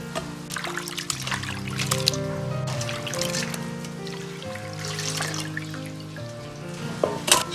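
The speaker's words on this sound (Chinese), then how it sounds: "把改好刀的虾用清水稍微多清洗下" Cut shrimp being rinsed in clean water, with trickling and dribbling water, wet squishing and occasional splashes and clinks over a steady running-water hum.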